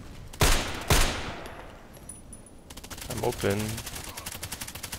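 Gunfire in a sniper video game: two sharp, loud shots a half-second apart, then a rapid rattling burst of automatic fire, with a brief spoken word mixed in.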